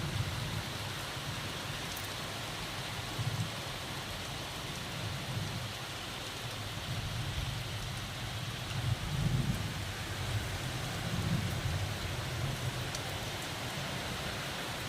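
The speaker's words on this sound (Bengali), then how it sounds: "খুব জোরে বৃষ্টি হচ্ছে।" Heavy morning rain pours down steadily outdoors, a dense continuous hiss with a rumbling low undertone that swells gently now and then, loud and unbroken throughout with no voices.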